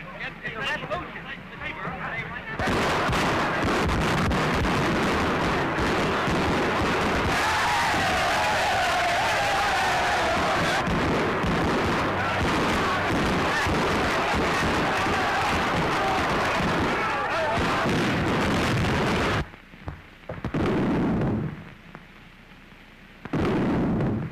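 Battle gunfire and artillery in a 1931 film: dense, continuous rattling shots and heavy booms fill most of the stretch, loud and close, with voices briefly over it toward the end.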